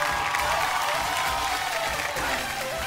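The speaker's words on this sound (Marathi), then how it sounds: "एकदा जोरदार टाळ्या झाल्या पाहिजेत." Sustained, dense applause from a studio audience for the winner of a rangoli competition on a Marathi TV show, steady and loud throughout with a light crowd murmur beneath.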